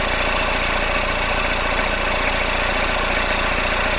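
A Toyota Hilux pickup engine with stuck piston rings and heavy crankcase pressure runs steadily nearby, a constant dense rumbling drone with an even mechanical clatter and no changes in speed.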